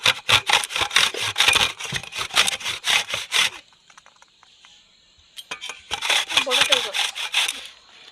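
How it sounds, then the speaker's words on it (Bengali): Date palm jaggery scraped against a metal grater by hand for dudh gokul pitha, a fast run of close, rasping strokes, a short pause with faint background hum, then another burst of rhythmic scraping. "খেজুর পাটালিটা গ্রেটার দিয়ে গ্রেট করে নিচ্ছে।"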